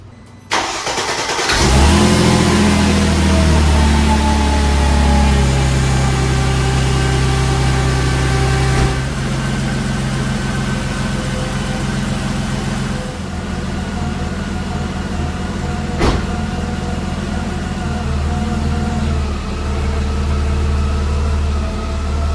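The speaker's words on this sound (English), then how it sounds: "I need to give you guys a cold start." A Mercedes C32 AMG cold starts after a brief crank, flaring loudly before settling into a steady, rumbling high idle that holds close and continuous, with no voices.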